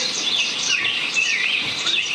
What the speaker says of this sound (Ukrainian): На сторонах співають пташки.